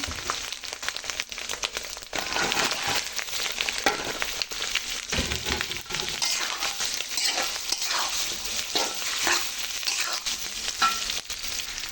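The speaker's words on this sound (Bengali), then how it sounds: "আমগুলো ভালো করে ভেজে নেব।" Raw mango pieces for pickle sizzle and crackle in hot oil with spices, bay leaf and mustard paste, a dense continuous frying hiss with occasional stirring scrapes, close and loud.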